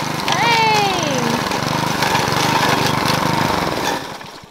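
A lawn mower drones steadily and fairly close on rural land, its engine holding a constant buzzing hum before cutting out near the end, with a voice briefly calling out over it at the start.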